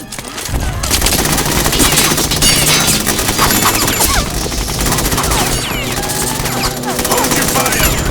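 Dense, loud automatic gunfire in Metal Gear Solid 2 crackles in rapid bursts with smashing impacts. Shouted voices can be heard under the shooting.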